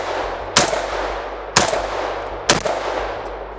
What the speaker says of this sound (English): Golly, it's like Sparky can't shoot. He shoots a good group.